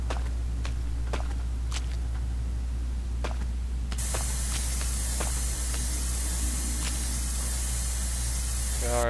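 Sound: spray painting in video game Erie

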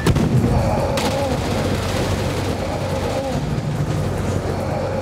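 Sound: gunfire from a headshot in the VR game Gungrave

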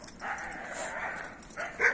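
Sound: dogs barking

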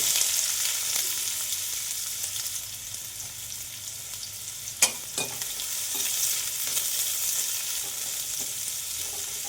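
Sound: onions frying and being stirred in pan

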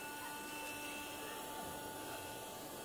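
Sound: vacuum inflator running

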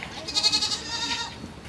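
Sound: goat bleating

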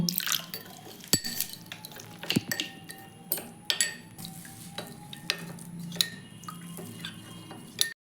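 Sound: mixing a thin batter with water and salt

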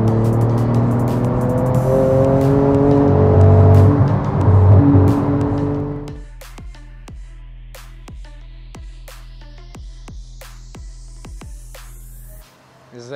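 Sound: Porsche 911 GT2 RS engine running

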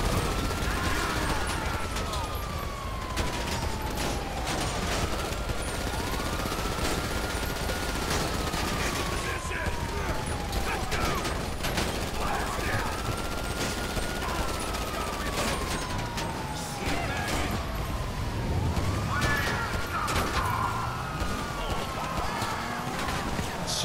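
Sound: gunfire in GTA 5 video game

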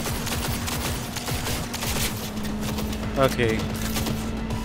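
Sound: gunshots from the video game Cyberpunk 2077

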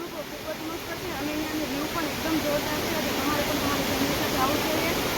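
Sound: waterfall

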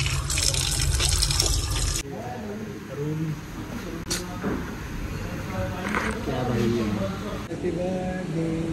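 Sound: water running while washing hands

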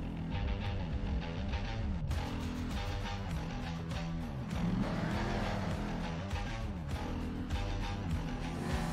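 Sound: monster trucks racing in the video game Monster Jam Steel Titans 2

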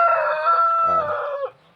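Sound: fighting rooster crowing on a farm

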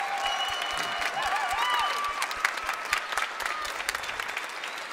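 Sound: concert audience applause for the tech crew

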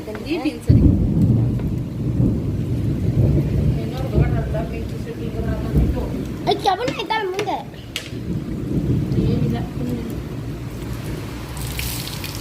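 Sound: heavy rain with thunder and wind

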